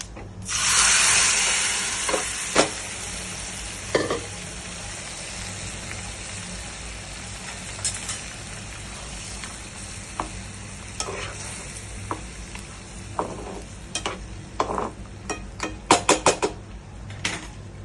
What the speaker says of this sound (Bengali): আমি ডালটা ছেড়ে দিচ্ছি, সুগন্ধ বেরিয়েছে